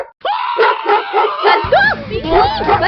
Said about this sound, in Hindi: कद्दू बचाओ मुझे इस कुत्ते से।